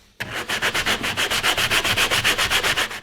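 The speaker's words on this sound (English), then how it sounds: "Okay, so I got these two pieces all sanded" Wooden pieces for a homemade fishing rod rack are sanded by hand in quick, even back-and-forth strokes, loud and close, with a steady rasping rhythm of about six strokes per second and no talk.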